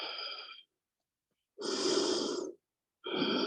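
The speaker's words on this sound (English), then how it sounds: "And breathe." Three deep, close breaths come from a person holding a pilates stretch. Each is a loud, airy rush of about a second, separated by short silent pauses.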